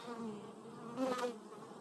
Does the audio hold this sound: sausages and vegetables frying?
no